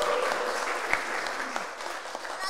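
An Indonesian talent-show audience applauds steadily through the whole stretch, a dense wash of many hands clapping at moderate volume without any voices rising above it.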